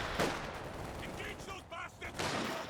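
Bundle grenade blast and rattling gunfire in a Company of Heroes 2 multiplayer battle, a sharp burst near the start followed by scattered shots and crackling combat noise throughout, loud and dense.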